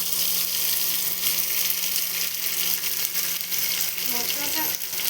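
Potatoes hit hot mustard oil with cumin seeds and fry, a steady close sizzle and crackle throughout, with a faint voice near the end.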